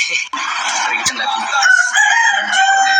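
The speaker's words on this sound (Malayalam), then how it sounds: "ഇത് ഏത് കുറ്റിക്കാട്ടിയിരിക്കുന്ന കോഴിയൊക്കെ കിടന്ന് വിളിക്കുന്നു" A rooster crows loudly and close by, holding one long, strained call with a brief clucking note before it.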